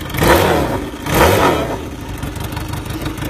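Turbocharged Hunter Daytona motorcycle engine blipped twice in close succession, rising and falling revs up close, then settling into a rough idle.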